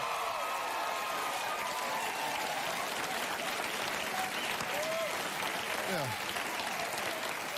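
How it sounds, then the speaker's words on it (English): Steady studio audience applause on a daytime talk show, a continuous roar of clapping with a few voices and a brief spoken word underneath. "You didn't clap like that for me."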